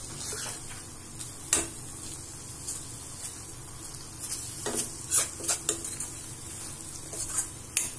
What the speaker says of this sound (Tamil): அதே வெங்காயம் நல்லா ப்ரௌனிஷா வரணும், இது ரெண்டும் முக்கியம்.